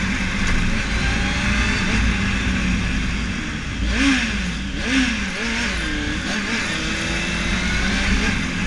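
A Honda Hornet motorcycle engine revs and accelerates at night in Rio de Janeiro, its pitch climbing and dropping in a few surges over a steady loud rumble nearby.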